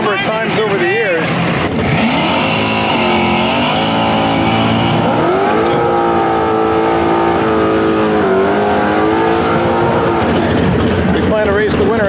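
At a drag strip, a Mach 1 Mustang and a green Fox-body Mustang race side by side, their engines roaring loudly as they launch and rev through the gears, pitch rising and falling, with a commentator talking over the noise.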